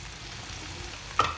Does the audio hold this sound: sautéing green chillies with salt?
yes